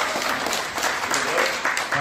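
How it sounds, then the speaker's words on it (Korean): Lecture audience in the National Assembly Library auditorium applauding the speaker, a steady, dense patter of many hands clapping close by, sustained for the whole stretch without a break. "강영근 사무총장에게 큰 박수 다시 한번 부탁드리는데요"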